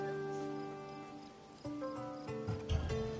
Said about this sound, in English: It's a very nice horse.